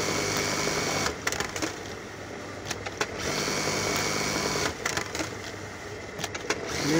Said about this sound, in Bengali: মেশিনটি সুইং করা হচ্ছে।